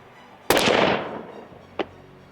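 A single sharp, loud rifle shot from a hunting rifle on a range, with a long decaying echo, followed by a faint short click or knock about a second later.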